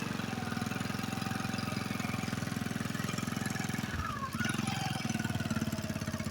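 A motorbike engine idles close by with a steady, rapid thumping pulse, briefly dipping around the middle before settling back to the same even running, with no talk.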